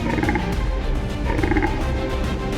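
Fallow deer stags roar during the rut in Sierra Morena, Spain, giving low guttural croaking grunts repeated in bursts over a dense, noisy outdoor background.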